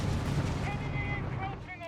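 Dense gunfire and battle noise rumble continuously in the video game Company of Heroes 3, heavy and loud, with a voice talking over the action.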